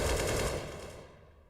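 Automatic AK rifle fire in a Counter-Strike: Global Offensive pro match, a loud rapid burst that cuts off and decays within about a second.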